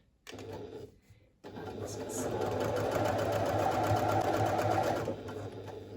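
A sewing machine stitches fabric at a 2.5 stitch length, starting with a short backstitch and then running in a steady, close mechanical whir, with a person talking over it.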